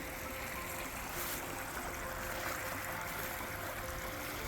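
Mountain creek water flowing steadily along an Appalachian Trail section in winter, a continuous broadband rush and trickle, moderately close and constant, with no speech.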